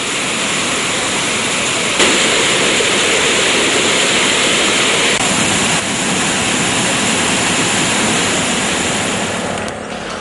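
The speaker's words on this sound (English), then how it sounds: "All the spill gates of the Parakrama Samudra were opened by 6 inches each and 700 cubic feet of water was" Water gushing from the open spill gates of the Parakrama Samudra reservoir, a loud, constant roaring torrent that fills the whole clip without pause, heavy and close with no talking.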